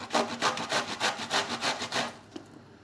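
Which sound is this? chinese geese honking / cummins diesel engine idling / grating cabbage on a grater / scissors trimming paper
grating cabbage on a grater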